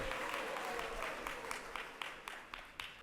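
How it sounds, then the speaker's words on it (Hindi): An audience at a devotional gathering in Mayapur applauds a welcome. The clapping is fairly quiet and even, a soft continuous patter of many hands with a few sharper claps standing out near the end. "तालियों के साथ हरि बोल"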